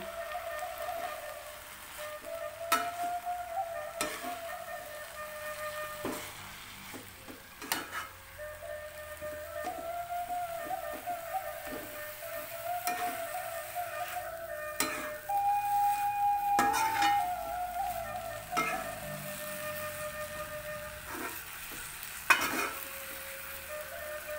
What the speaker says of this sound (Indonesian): Kita aduk-aduk biar bumbunya campur merata.